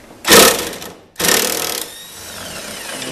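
Impact gun on a 17 mm socket working on a Honda car with a rough idle, giving two loud, close rattling bursts, the second trailing off into a quieter whine.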